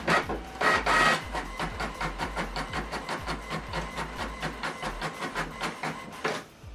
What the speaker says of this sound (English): So we are printing double-sided, black and white, or monochrome if you like.